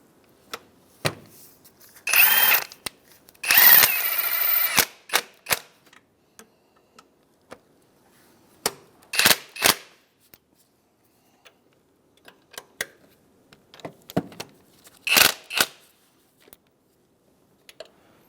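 Mount bolts on a Mazda CX-9 transmission are tightened and torqued with a ratchet in short clicking bursts separated by quiet pauses, with a few longer runs of rapid clicks.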